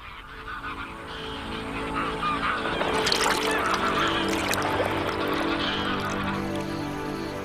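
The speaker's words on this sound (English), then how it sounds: "the grey lag geese and other wildfowl are returning." Greylag geese and other wildfowl calling at a wetland in Doñana, Spain, a steady chorus of honks and cackles spread through the whole stretch, denser and louder in the middle, with water and ambient noise beneath.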